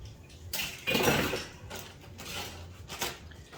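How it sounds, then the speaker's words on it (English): Tuna being added to a dish, with clinking of a utensil against a bowl or pan and scraping handling noises in several short bursts, close and fairly quiet. "I'm gonna add in my tuna"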